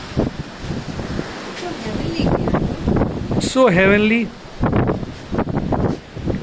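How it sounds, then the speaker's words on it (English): Strong wind buffets the microphone on a cruise ship's 14th deck, gusting loudly and unevenly beneath people talking. "Look, it's very windy. Even I'm unable to hold the phone."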